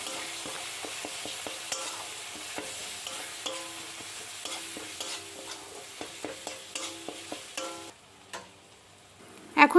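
Spices with chilli, cumin, coriander powder and meat masala are stirred and sautéed in a pan, giving a soft sizzle under a run of rhythmic spatula taps and scrapes that quicken, then fade near the end before a final louder clatter.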